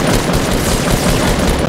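Rapid automatic gunfire from a video game, a loud dense barrage of shots with booming undertones running continuously and close for the whole stretch.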